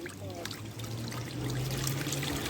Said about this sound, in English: get some water in the pot